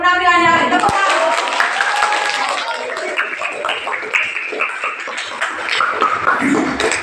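Applause for student groups after their presentations in a classroom, scattered clapping that rises and thins over several seconds, with voices talking over and between the claps.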